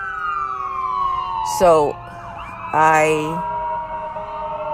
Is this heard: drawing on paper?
no